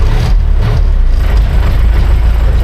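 A diesel engine on a farm sprayer runs after being restarted in a wheat field, a loud, steady low rumble with some buffeting noise throughout and no speech.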